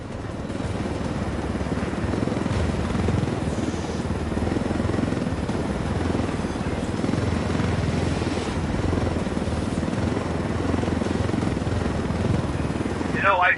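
A helicopter in the video game Ghost Recon Wildlands drones with a continuous, steady rotor and engine roar, loud and close throughout, with a brief voice near the end.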